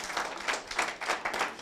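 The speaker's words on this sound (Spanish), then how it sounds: "Alguien dele un aplauso, porque Él es digno, Él es bueno." A church congregation claps together in brief, moderately loud rhythmic bursts of applause, with no voices over it.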